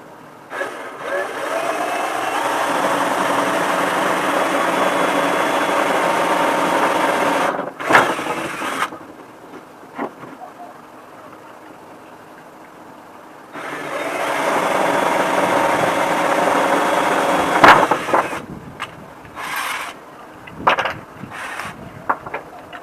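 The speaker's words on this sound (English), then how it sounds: "I want to drill 2 holes in this cap." Two sustained bursts of a high-pitched power drill whirring as it drills two holes in a cap, each several seconds long, separated by quiet with small handling clicks.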